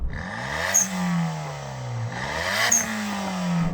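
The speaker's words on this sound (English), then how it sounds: "let's rev up these little engines, these little 3-pot turbos" Small turbocharged three-cylinder car engines rev up and down in two bursts, a buzzy rising and falling engine note with a blow-off valve whooshing hiss near the peaks.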